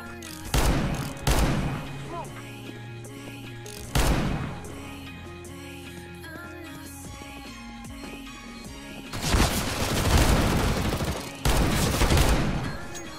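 R8 Revolver shots in CS:GO ring out as several loud, separate cracks spaced seconds apart, followed by a denser burst of gunfire near the end against background game sounds and some music.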